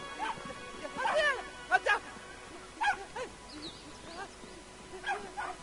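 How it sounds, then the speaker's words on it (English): A dog in the video game Brothers: A Tale of Two Sons barks in sharp, repeated bursts, several yelps spaced over a few seconds, moderately loud against faint background ambience. "Flee from the dog."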